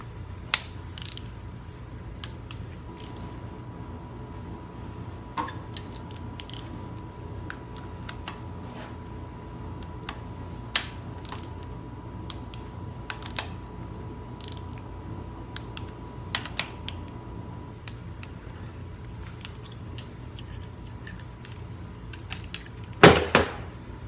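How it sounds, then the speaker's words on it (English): A torque wrench tightens cylinder head bolts on a Perkins 152 diesel engine, with scattered sharp ratcheting clicks over a low steady hum and a louder cluster of clicks near the end. "I'm going to start off with 30, follow the torque map, and torque it"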